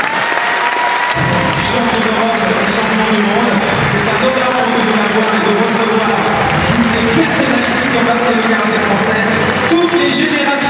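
An audience applauding at the Bercy arena: a large crowd bursts into sustained, dense clapping after a brief quiet start, loud and steady throughout.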